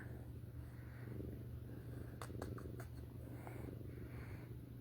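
Steady low rumbling purr from a cat close by, continuous throughout, with a few faint clicks and rustles.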